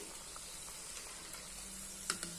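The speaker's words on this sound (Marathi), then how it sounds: "अशा पद्धतीनं सगळ्या वड्या आपल्याला तळून घ्यायच्या आहेत." Marathi vadi frying in oil, a faint steady sizzle and hiss with a couple of brief clicks near the end, no talking.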